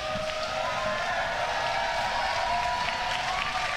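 A crowd at a Fortnite Summer Skirmish semifinal at PAX West roars and cheers continuously, a dense wash of voices and applause filling the space without pause.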